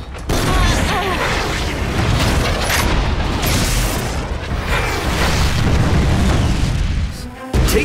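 Missile explosions in an animated battle scene boom in a continuous, loud barrage of blasts and rumbling bursts that fill the whole stretch, dense and close.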